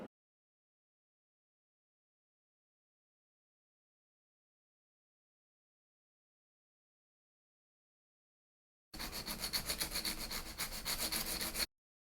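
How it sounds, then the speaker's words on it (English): A nail file blends an artificial nail tip into the natural nail, giving a close, steady scratchy rubbing for a few seconds after long silence. "you are ready to blend the nail tip to the natural nail using your nail file"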